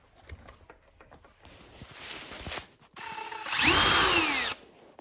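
Screws being backed out of a Redcat Tornado nitro buggy's two-speed transmission with a small power driver, heard as short close whirring bursts that build to a louder sustained run near the end.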